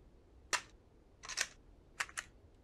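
A shotgun is reloaded in the video game Erzurum: four or five quiet, crisp metallic clicks and clacks spaced irregularly against a faint background.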